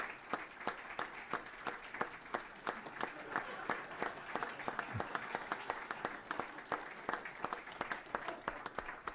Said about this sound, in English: There's a smattering of applause as he makes his way up